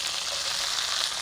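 Coriander frying in hot oil in a pan, a close, continuous bright hiss with no pauses and no talking.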